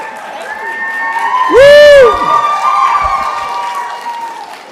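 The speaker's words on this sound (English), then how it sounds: "Now I want y'all to cheer that way tomorrow too" Elementary school community crowd cheering and clapping at a school board meeting, a loud sustained burst with whoops and shouts swelling midway, voices mixed throughout.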